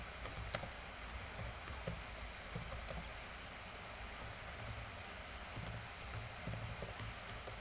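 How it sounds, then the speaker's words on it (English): Soft, faint clicking of keys on a computer keyboard, irregular taps spread across the stretch against a low steady background hum. "Let me just type in."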